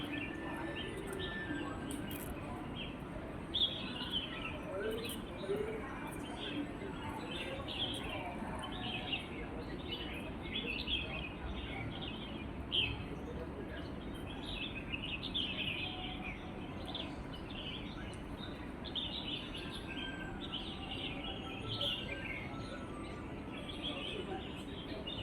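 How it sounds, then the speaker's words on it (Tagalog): Outside Shatin Town Hall in Hong Kong, birds chirp and tweet in scattered short calls. The sound is fairly faint over a soft, constant outdoor background, with occasional cooing of doves. "Birds singing."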